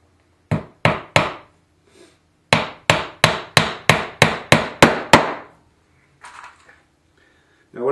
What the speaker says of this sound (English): Then your 1¼ finish nails.